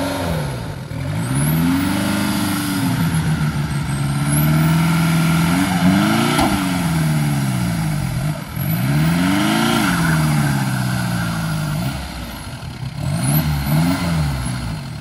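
A $20,000 ATV engine revs repeatedly during a burnout, loud and close, rising and falling in sweeping bursts about every few seconds with tire whine on top.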